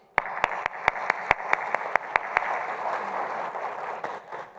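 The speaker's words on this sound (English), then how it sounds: "So if you can give her a warm round of applause." Audience at a youth petroleum industry forum applauds a speaker, a steady moderate clapping wash with a few sharper individual claps standing out, fading toward the end.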